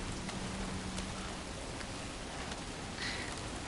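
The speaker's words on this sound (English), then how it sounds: "Perhaps it was a poor decision to do this in the rain" Steady rain falls in the video game Death Stranding 2, a dense, even hiss of drops on surfaces continuing without pause.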